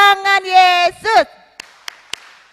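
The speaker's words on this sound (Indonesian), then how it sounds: "Sekali lagi, tepuk tangan Yesus." A voice rings out at a congregation's early-morning prayer gathering, then falls away to three sharp, separate hand claps spaced across the final second.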